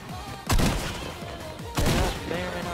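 Gunfire in Fortnite, two sharp, loud bursts about a second apart, each followed by a ringing tail and softer scattered shots in between.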